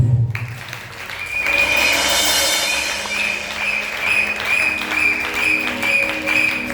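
Church congregation clapping steadily and loudly through a service, with a sustained tone and voices mixed in.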